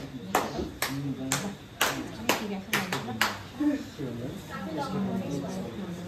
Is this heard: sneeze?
no